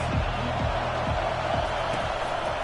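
A football stadium crowd roars in a steady, dense wash of noise that holds at an even level throughout, with faint low voices mixed into the din.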